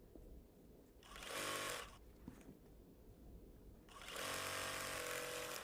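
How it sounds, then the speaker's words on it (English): A home sewing machine stitches binding onto a quilt in two short, close bursts of rapid mechanical whirring, with quiet pauses between them while the quilt is adjusted. "You can see I have to adjust the quilt, sew a little bit, adjust the quilt, sew a little bit"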